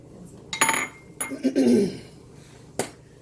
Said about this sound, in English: I'm going to go ahead and stick the lid on it for now